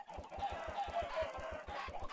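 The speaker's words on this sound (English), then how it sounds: "This is a lot of chickens, though." Many chickens in Minecraft clucking in a dense, rapid chorus of short overlapping clucks, close and fairly soft, with no talking.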